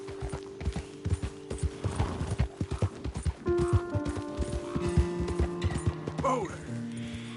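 A horse in Red Dead Redemption 2 gallops with quick, rhythmic hoofbeats, close and clear, with a steady tonal hum from the game underneath and a brief whinny toward the end.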